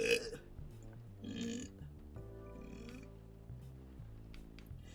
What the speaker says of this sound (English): I could do with my burping spells ending for a month